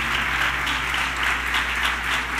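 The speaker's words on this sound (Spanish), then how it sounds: "vamos a darle un aplauso fuerte al Señor por la vida de ellos" A church congregation applauds in steady, dense clapping that holds at an even level throughout with no talk over it.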